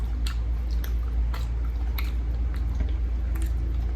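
Close, wet chewing and squishy bites of spicy siomai with chili sauce at a mukbang meal, soft smacking repeated in an irregular rhythm over a steady low hum, with no talking.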